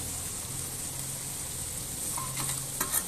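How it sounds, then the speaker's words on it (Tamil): Spices with black cardamom sautéing and being stirred in a pan for chicken gravy: a steady low sizzle with soft scraping of the spoon and a couple of light knocks near the end, close and quiet. "பெரிய ஏலக்காய் ரெண்டு இதெல்லாம் போட்டு கிண்டிக்கலாம் கொஞ்ச நேரம் வதக்கணும்"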